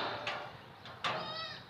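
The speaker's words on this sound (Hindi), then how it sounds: "नस्ली बकरे बकरियां।" Mixed-breed goats bleat on a goat farm, two or three short, close, fairly faint calls in quick succession against a quiet background.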